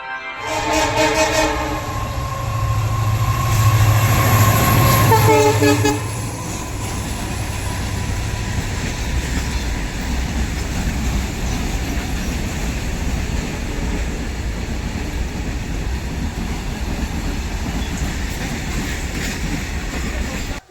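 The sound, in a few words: passenger train arriving at a station platform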